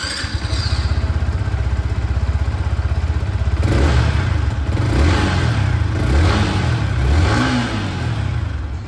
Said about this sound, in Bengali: এবার আপনাদেরকে আমি এই যে এক্সস্ট সাউন্ড সেটাও একবার এখানে শুনিয়ে দিই।